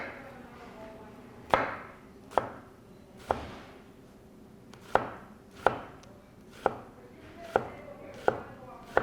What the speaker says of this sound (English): Next up, we're going to do a julienne cut on an onion.